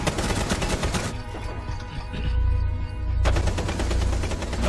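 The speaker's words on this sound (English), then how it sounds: "Yeah, I was shooting at him." Dense, loud rapid gunfire from a Rainbow Six Siege match, continuous automatic bursts that briefly drop away mid-clip before resuming at full intensity.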